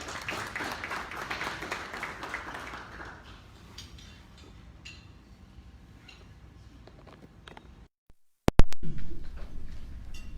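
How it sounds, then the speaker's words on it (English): Applause from an audience at a Great Lakes private sector forum breakfast launch in Uganda fills the opening seconds, then fades to a murmur. A brief silence follows, broken by a sharp, loud thump. "Big round of applause"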